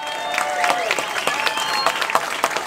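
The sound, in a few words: audience applause for Gisèle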